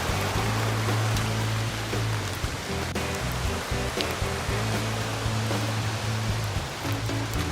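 Douglas Creek runs high in flood after rain, a broad continuous rushing roar of fast water, close and steady with no pauses and no voices.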